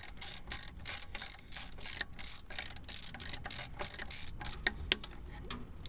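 Ratchet tightening a car starter bolt: a rapid run of quick, close metallic clicks in a steady rhythm, with a few irregular clicks toward the end.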